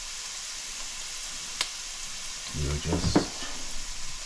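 Onion frying in oil with salt, a soft continuous sizzle that grows busier as stirring scrapes and clatters break in near the end, with a brief spoken word over it.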